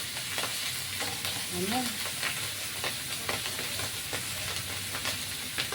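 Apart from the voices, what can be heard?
oil splattering while frying dried fish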